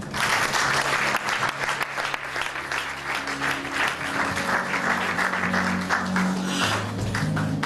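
A church congregation claps and cheers in sustained, dense applause, with low musical notes sounding steadily underneath.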